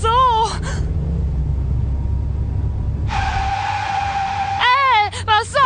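A car brakes hard with a long, loud tyre screech that holds a steady pitch for over a second, set against low engine rumble, while voices talk before and after the skid.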